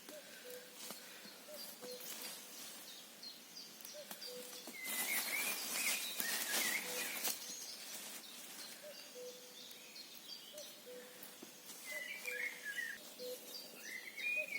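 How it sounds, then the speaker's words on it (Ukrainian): Birds sing and chirp in a quiet forest, several calls overlapping, with a brief louder burst of chatter partway through. "Пташки гарно виспівують."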